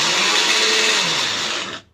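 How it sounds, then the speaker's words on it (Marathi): A mixer grinder whirs loudly and steadily grinding garlic for til-khobra chutney, a dense high-pitched motor roar that runs for nearly two seconds before cutting off and winding down. "आता काढते आता हे मिक्सरवर."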